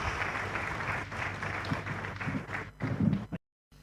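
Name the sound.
audience applause for a guest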